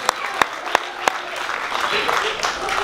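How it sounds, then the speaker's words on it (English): An audience at a live Q&A on a summer festival cruise applauds: a few sharp, separate claps come first, then a softer, spread-out patter of clapping, with speech mixed in. "Clap that up"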